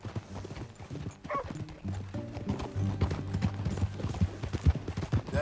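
Horse hooves clip-clop in a steady walking rhythm in the video game Red Dead Redemption 2, close and clear, with a brief whinny and quiet voices talking over the plodding steps.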